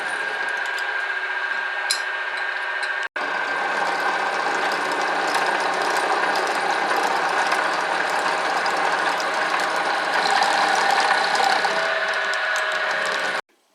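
A mini milling machine cuts a steel workpiece with a loud, steady mechanical whir and ratcheting grind, briefly interrupted near the start before running continuously, then stopping abruptly at the end.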